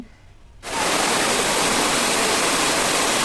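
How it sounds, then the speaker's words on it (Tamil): Beema Falls in the Javvathu hills pours down in a steady, loud roar of rushing water that starts abruptly after a brief quieter moment and then holds constant and close. "எப்படி வழிஞ்சு வருது பாருங்கள் தண்ணி"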